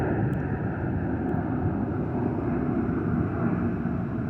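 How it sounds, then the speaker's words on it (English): A steady, low rumbling roar of an airplane passing overhead fills a park, constant and fairly loud, with wind-like broadband noise and no voices. "Oh, here comes a plane."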